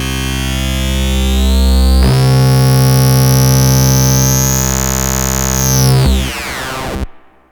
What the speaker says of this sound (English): take the Wavefolder output of the bitfault, send our sine wave into it